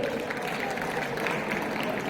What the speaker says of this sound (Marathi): या संकल्पनेसाठी एकदा जोरदार टाळ्या जाऊ दे